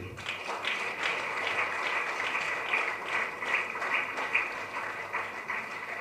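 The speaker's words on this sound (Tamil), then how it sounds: "பிறந்த நாள் வாழ்த்துக்களோடு உங்கள் கைத்தட்டலோடு சிறப்பு பசி நாயகன் சசிகுமார் அவர்களுக்கு" Applause from an audience at a Tamil public event honouring actor Sasikumar: steady dense clapping of moderate loudness that continues throughout, with no speech over it.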